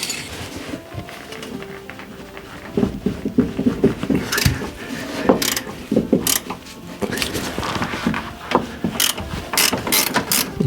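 Ratchet clicking steadily while removing a nut from the upper suspension wishbone of an Alfa Romeo 156, close and loud, with a rapid pawl rattle broken by sharp metallic knocks and clanks.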